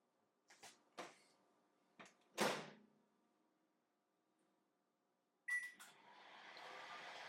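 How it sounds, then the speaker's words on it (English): A microwave oven under a repair test for not heating, faint clicks and door or button sounds, a brief beep, then a steady quiet hum as it starts running. "make sure microwave is working"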